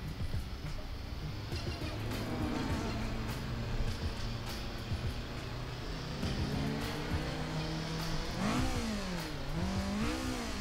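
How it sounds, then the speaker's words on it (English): A rally car engine drones steadily and revs, with rising and falling pitch sweeps near the end as it accelerates and shifts. "Sounds like a rally car."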